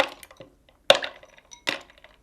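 Ice cubes drop into a blender for a smoothie, giving three sharp clinking knocks with small rattles after each, close and otherwise quiet.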